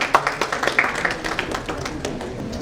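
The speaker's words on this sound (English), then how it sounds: "Please give a round of applause to Mr." Audience at a formal event honouring a Fiji High Commission counsellor breaks into scattered, light clapping, a thin patter of individual claps without speech.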